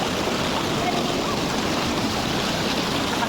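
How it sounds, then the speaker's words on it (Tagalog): The Mother of Falls waterfall over rocky ground gives a steady, dense rushing roar, loud and close, with no break in the flow. "It's the waterfalls."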